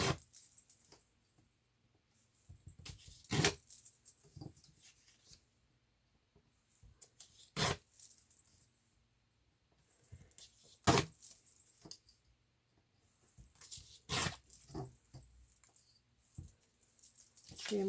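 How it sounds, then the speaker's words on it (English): Paper being ripped up by hand for junk journal labels, several sharp tearing bursts spaced apart with quiet pauses, close and fairly loud, no talking. "Feels quite good ripping up paper."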